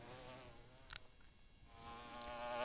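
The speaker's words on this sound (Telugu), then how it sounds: "ఈగలు కూడా చాలా చిన్నవి ఉంటాయండి మొసలి తేనెలో" Tiny honey bees buzz around a wild honeycomb in a steady, faint, high drone that hums continuously and swells slightly toward the end, with a brief rustle in the middle.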